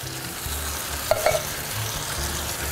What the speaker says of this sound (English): We're putting in a can of diced tomatoes,